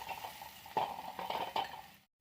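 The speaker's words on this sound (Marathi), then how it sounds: "थोडंसं परतून घेऊयात." Garlic, curry leaves and coriander being sautéed in hot oil, a soft steady sizzle with a few scraping stir strokes of a spoon against the pan, close by, ending abruptly.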